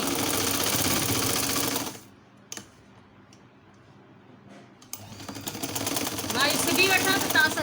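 A sewing machine stitching around the edges of a patchwork pot holder, running in a fast, even whir for about two seconds, pausing with a couple of clicks, then starting up again and running loud and close.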